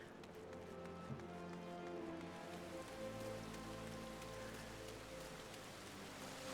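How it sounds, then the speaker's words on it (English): Steady rain hisses across the scene in Final Fantasy XIV, a soft, continuous patter under faint game music and footsteps, with no voices. "although it is raining"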